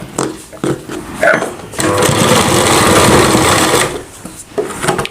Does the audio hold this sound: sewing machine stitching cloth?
yes